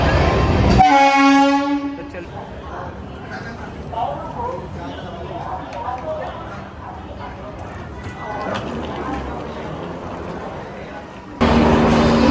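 A train at a railway station sounds a horn loudly at the start, then a long rumble of rolling cars and station bustle, with a second horn blast near the end.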